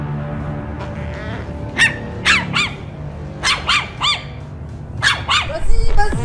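A dog gives a series of sharp barks in bursts, clustered in twos and threes with short pauses, fairly close and loud over an outdoor background.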